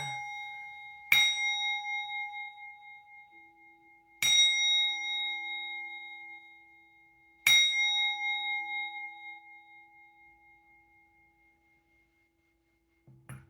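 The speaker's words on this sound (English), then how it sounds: "I'll just ring the bell to give it some" A small bell is rung three times at spaced intervals to cleanse an area, each strike a clear bright ding whose ringing tone decays slowly into silence.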